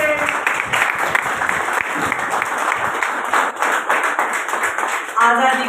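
An audience at a Hindi-language interview event breaks into loud, sustained applause, dense clapping continuing throughout with a voice briefly heard under it.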